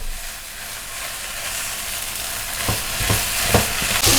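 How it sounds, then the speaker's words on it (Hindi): Spices are mixed into a batter in a bowl for crispy chicken box patties, a continuous wet stirring and scraping with a few louder clinks toward the end, close and without talk. "Now we will mix all the spices well."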